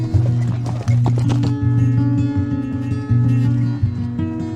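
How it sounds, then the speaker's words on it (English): Horses clip-clopping along a busy street in Cairo, Egypt, with repeated close hoof strikes over a loud droning vehicle horn and traffic, plus a brief whinny. "they all just like strut along on their horses, giving it little hits."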